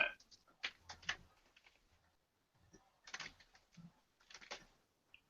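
Computer keyboards clack faintly in scattered bursts of keystrokes, quiet and intermittent, as if heard from several people over a call.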